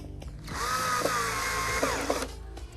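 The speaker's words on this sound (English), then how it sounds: "Drill was just dying." A cordless power drill whirs steadily for about two seconds while tightening screws on a Thrustmaster RGT force-feedback wheel mount, its motor pitch sagging slightly under load, with a few clicks before winding down.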